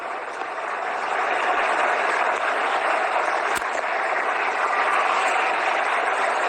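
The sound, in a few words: cricket stadium crowd cheering for more sixes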